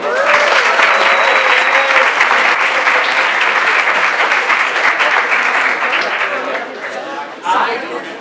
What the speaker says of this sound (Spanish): Un aplauso para Kate.